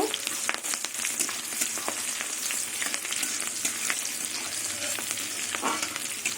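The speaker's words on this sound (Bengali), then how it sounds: "এবার থেতো করা রসুন দিয়ে দেবো তার সাথে দিয়ে দেবো চার পাঁচটা আরও কাঁচা লঙ্কা চেরা এবার রসুনের কাঁচা গন্ধটা চলে যাওয়া অব্দি একটু নেড়ে নেব" Crushed garlic and slit green chillies fry in a pan with a dense, continuous sizzle, and frequent spoon scrapes run through it as they are stirred. No voice is heard.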